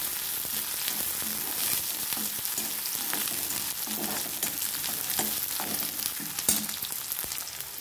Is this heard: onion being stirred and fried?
yes